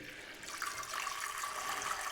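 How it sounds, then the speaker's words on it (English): Water is poured into a deep container for a late-summer dahlia flower arrangement, giving a soft, continuous splashing trickle heard alone and fairly faint. "So the first thing I'm going to do is add some water."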